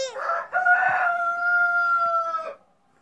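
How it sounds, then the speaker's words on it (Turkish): A rooster on a farm gives one loud, close crow lasting about two and a half seconds, strained at the start and then holding steady before cutting off into quiet. "Horozlarımızı çekelim."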